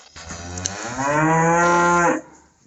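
A cow bought from friends down at Albany lets out one long, loud, deep moo that swells and then breaks off, heard close and alone with no one talking.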